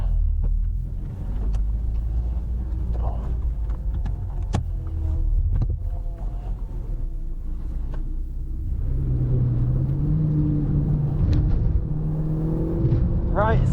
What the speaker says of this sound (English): we're on board the mighty Renault Clio at Donington Park on the national circuit.